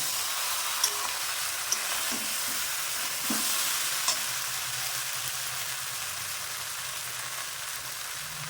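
Drumsticks and mixed vegetables for neem shukto frying in a pan, a steady close sizzle with a few scraping stirs of a spatula early on, no voices.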